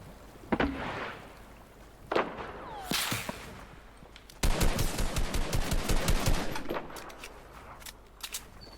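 Gunfire in the video game Fortnite: scattered single shots early on, then a sustained rapid burst of automatic fire for about two seconds, loud and close, followed by a few fading shots, with no talk.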